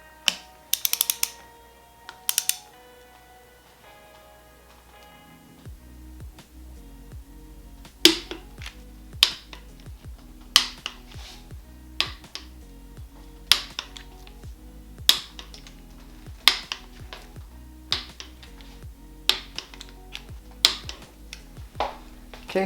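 Torque wrench tightening cylinder head bolts on a 289 engine, a fast clicking burst early, then a series of sharp clicks spaced a second or two apart over the rest of the stretch, close and crisp, no talk.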